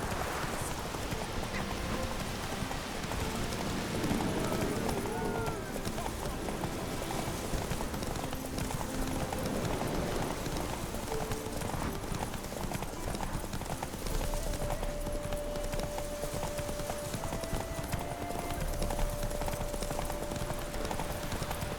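A horse gallops in The Witcher 3, steady rhythmic hoofbeats clip-clopping close by for the whole stretch, with wind and faint game ambience underneath.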